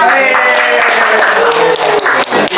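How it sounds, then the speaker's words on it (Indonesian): A classroom of students claps for two classmates after a lesson on monuments, a dense patter of hand claps over a steady tonal hum, with voices mixed in before the clapping thins and breaks up near the end. "tepuk tangan untuk Pandi dan"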